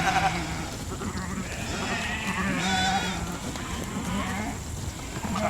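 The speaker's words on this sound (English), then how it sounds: "We had quite a lot of sheep left back there." A large flock of sheep being moved in a pasture in August bleats continuously, many overlapping calls near and far over a dense, steady rustle.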